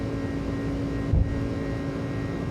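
An Airbus A306 airliner in a flight simulator roars steadily on its takeoff run, a constant loud jet engine drone with tonal whine and a brief low thump midway, no talking.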